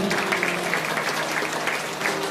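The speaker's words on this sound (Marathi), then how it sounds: "त्या बाबांसाठी जरा महाराजांसाठी टाळ्या वाजव" A Marathi kirtan audience claps steadily for the maharaj, a dense, continuous patter of many hands that stays even from start to finish, with a faint sustained tone beneath it.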